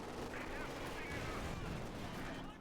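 Machine gun fire crackles through a Company of Heroes 2 battle, dense rattling bursts and booms running continuously at a low level beneath a commentator talking.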